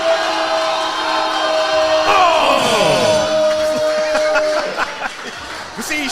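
A crowd at the ATP Classic 2025 cheering and yelling. Loud whoops and shouts overlap with excited voices nearby, then fade slightly toward the end.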